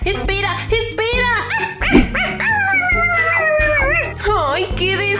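A cartoon puppy in the Avatar World video game yips and whimpers in short bursts over cheerful background music, while someone speaks in an animated voice throughout.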